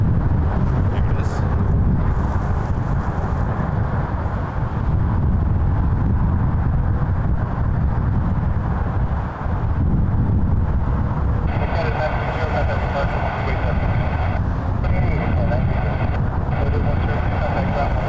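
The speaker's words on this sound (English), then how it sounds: "Wind is picking up." Strong wind buffets an outdoor microphone at Toronto's airport on a freezing day, a steady loud roar throughout, with aircraft engine noise mixed in and a brighter hiss entering toward the end.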